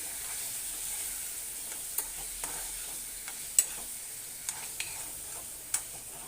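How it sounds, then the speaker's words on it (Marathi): Green peas and paneer sautéing in hot oil in a kadai with salt and red chilli powder, a soft steady sizzle broken by sharp clicks of a spoon stirring against the pan. "ज्यावेळी आपण मठार आणि पनीर ज्यावेळी तेलामध्ये परतत असतो"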